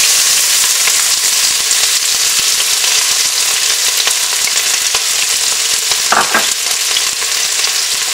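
Onions frying in sunflower and rapeseed oil in a large pot for butternut squash soup, a steady loud sizzle running the whole time with a brief clatter near the end, no voices.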